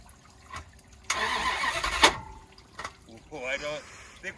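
Dodge Dakota pickup truck cranking after a water jump, with the muffler nearly underwater: a loud engine cranking burst lasting about a second, followed by fainter sputters and another short cranking attempt, with people talking nearby.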